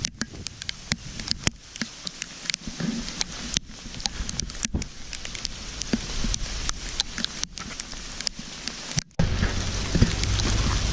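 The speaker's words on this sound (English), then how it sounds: "It's coming down like hail and snow and rain." During a March 2017 winter storm in New York City, hail, snow and rain come down, producing a steady wash of precipitation peppered with many sharp, irregular ticks and taps of hail striking nearby surfaces.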